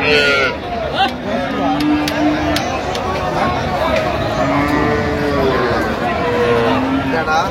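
Cows and calves low with drawn-out moos at a busy village cattle market at Ambari haat, several calls rising over a steady babble of crowd chatter and nearby talk.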